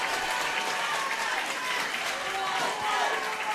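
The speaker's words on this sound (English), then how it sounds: "As Caltra get a big round of applause as they come back in for the second period of extra time." A Gaelic football crowd at a county intermediate final gives a big round of applause as the Caltra team returns for extra time, with steady dense clapping and crowd noise from the stands.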